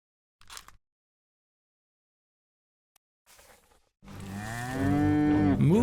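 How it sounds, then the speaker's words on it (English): A cow moos in the video game Return of the Obra Dinn, one long, loud, close low bellow that bends upward at the end, preceded by brief scuffing noises and quiet gaps. "Moo indeed."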